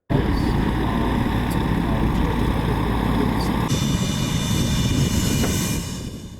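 A helicopter flying over Hollywood gives a loud steady engine and rotor roar that holds for several seconds, then eases slightly toward the end, with no talk.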